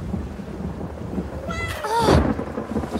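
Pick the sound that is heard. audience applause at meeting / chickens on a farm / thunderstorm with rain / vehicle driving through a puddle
thunderstorm with rain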